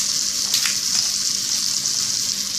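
Apple chunks sizzle steadily in butter in a pan, a continuous close frying hiss with a brief stirring clatter early on.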